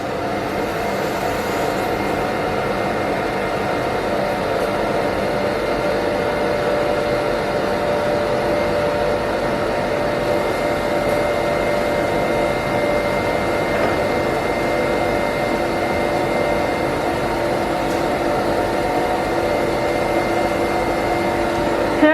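A 50-litre vacuum mixer machine runs with a steady, unchanging mechanical whir and hum throughout, loud and continuous with no pauses.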